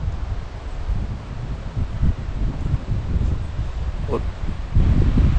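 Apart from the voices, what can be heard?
cold wind blowing outdoors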